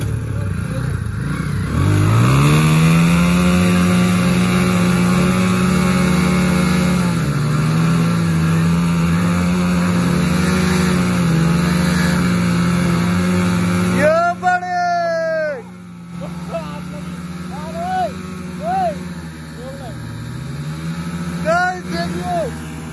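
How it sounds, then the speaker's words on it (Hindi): An Apache RTR 160 and a Hero Splendor Plus motorcycle strain against each other in a tug-of-war, their engines droning and revving hard together up close before cutting off, with people talking over and after them. "ये दो बाइक्स हैं गाइस हमारे पास, एक ये अपाचे और एक ये स्प्लेंडर प्लस।"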